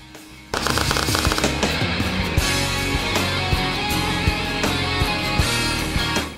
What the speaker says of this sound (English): You can apply clean, continuous beads on thicker steel without the risk of warping the material.